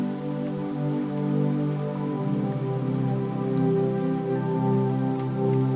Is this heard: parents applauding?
no